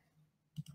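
A single mouse click on a Search button: a sharp double-tick near the end of a quiet stretch, close and crisp.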